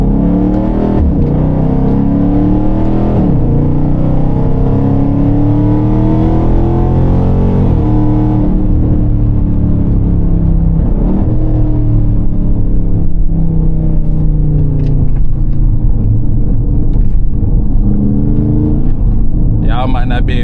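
A catless 392 Scat Pack muscle car engine drones loud and steady from inside the cabin while driving, its rumbling tone rising and falling with revs throughout.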